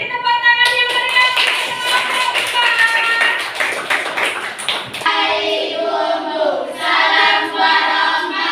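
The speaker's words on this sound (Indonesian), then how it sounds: "Beri tepuk tangan yang meriah." In a classroom group presentation, clapping from the audience runs for several seconds under overlapping voices, then fades as talking takes over.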